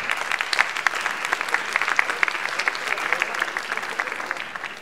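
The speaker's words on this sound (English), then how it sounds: "Applause, please." Steady applause from a conference audience welcoming a Spotify senior product manager to the stage, dense clapping sustained throughout without pause.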